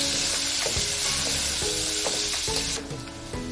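Sausages and crushed Scotch bonnet pepper fry with a steady close sizzle in a pan, broken by a few scraping stirs, the hiss thinning slightly near the end.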